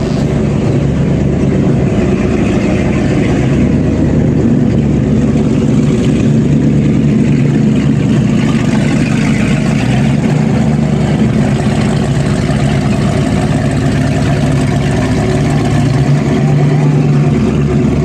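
A big boat engine runs in Key Largo, a loud, steady low drone with slight variations in revs lasting throughout, with faint voices underneath.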